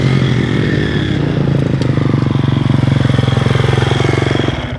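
A 2024 Triumph TF250-X motorcycle engine being ridden, a loud close steady buzzing drone with rapid regular pulsing that holds throughout and eases off slightly at the end.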